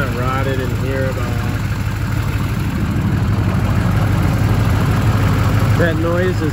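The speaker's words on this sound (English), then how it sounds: "That noise is the stock EGR." A 2003 GMC Sierra 2500HD Duramax diesel idles with a steady low rumble and a whiny mechanical hum from the stock EGR valve, while someone talks over it.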